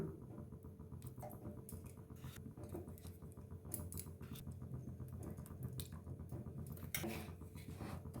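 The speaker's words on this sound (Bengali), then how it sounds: "সেই বাটেরই এক বাটি জল দিয়ে দিচ্ছি" A bowl of water poured into semolina cooking in a pot for jaggery sandesh, a continuous close splashing and trickling pour with light patter, alone without voices.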